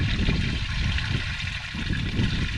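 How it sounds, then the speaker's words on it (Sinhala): Meltwater runs beneath a thick layer of melting snow on a mountain pass near Thuile, a steady, close, rushing gurgle that stays fairly loud throughout with no voices. "මේ හිම මහා හිම තට්ටුව මේ යට වතුර එන සද්ද"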